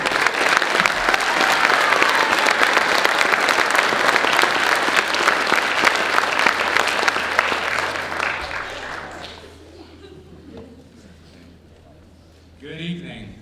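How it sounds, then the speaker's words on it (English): Loud, sustained audience applause at a spring concert with a service salute theme, a dense wash of clapping for about nine seconds before tapering off into quiet room sound, with a brief renewed burst near the end. "Let's give them a round of applause again"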